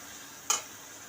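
Tomatoes and vegetables fry with shrimp in a pan, a soft steady sizzle interrupted by a single sharp scrape or tap of the stirring utensil near the middle.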